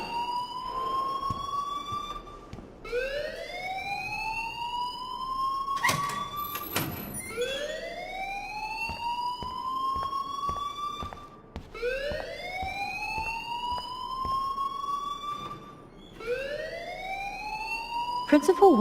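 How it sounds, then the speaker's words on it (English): A school alarm in the video game Life Is Strange wails in repeated rising sweeps, each climbing tone lasting a few seconds and looping steadily, loud and close throughout with a brief sharp clatter partway through. "please turn off that alarm since that's your job"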